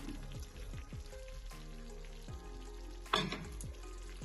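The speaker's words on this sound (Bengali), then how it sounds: "এবার এর মধ্যে ভাজা মাংসগুলো দিয়ে দেব।" Fried meat pieces for Bengali-style chilli chicken go into a hot sauce pan with sugar, setting off a steady close sizzle and frying hiss with a few clattering stirs and one sharper clank near the end.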